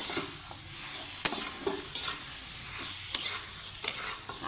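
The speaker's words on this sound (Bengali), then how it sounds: "হলুদের সাথে ঝিঙ্গাটাকে আমি সুন্দর করে নাড়িয়ে চেড়ে নিব" Ridge gourd is stirred with salt and turmeric in a pan, with a soft, even sizzle punctuated by a handful of distinct spatula knocks and scrapes.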